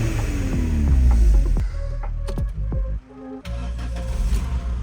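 A Peugeot 307 engine cranking while jump-started from a Skoda Fabia: a loud, laboured starter churn with throbbing, uneven turnover that falters, drops out briefly, then resumes with rising engine noise close by.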